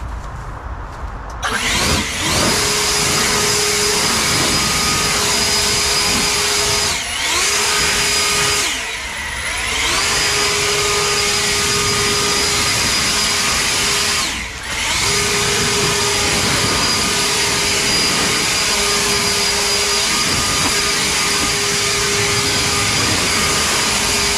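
An EGO Power+ LB5800 battery-powered leaf blower spins up and runs loud and close with a steady high whine, briefly dipping in speed a few times before returning to full power.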